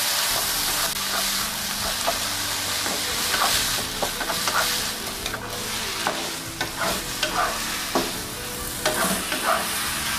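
Fried potatoes tossed with sauce and onion in a hot pan, a steady loud sizzle with repeated scraping stirs and clacks of the utensil throughout.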